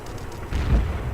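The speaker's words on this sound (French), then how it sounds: "Explosion." A single low, muffled explosion in the shooter game Red Crucible Firestorm swells midway and then rumbles on briefly, heavy and booming without sharp detail, with no voices over it.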